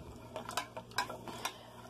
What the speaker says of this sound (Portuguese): diluindo minha gelatina